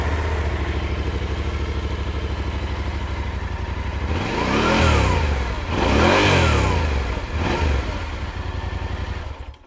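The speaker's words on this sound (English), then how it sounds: "actually let's start the engine here and I'll show you" A motorbike engine starts up nearby and settles into a loud idle, then gets two or three strong throttle blips that swell and fall back, with no voices.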